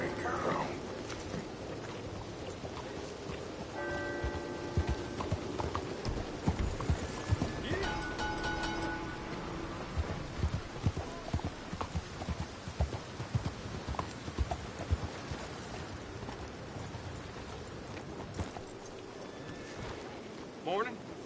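Hooves clip-clop steadily at a walking pace throughout in the video game Red Dead Redemption 2, with a horse whinnying partway through and people talking over the rhythmic clatter.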